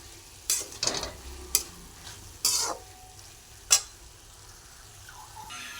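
Dried fish chutney with fresh coriander sizzling softly in a pan, broken by several sharp scraping stirs of a spoon against the pan spaced a second or so apart, close and clear.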